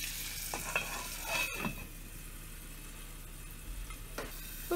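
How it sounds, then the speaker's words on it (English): A thick venison burger patty sears in butter and garlic in a pan, giving a steady close sizzle with a few brief clattering touches and no talk. "Then we're gonna go get our venison patty and get a good sear on it."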